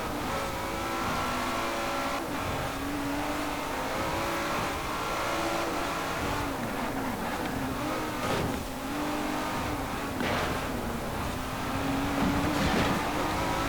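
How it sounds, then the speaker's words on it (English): An Aston Martin engine in Forza Horizon 4 holds a loud, continuous drone, rising and falling slightly with revs, with brief gear-change dips throughout and nothing else over it. "There's very little difference in terms of engine noise between this and that car."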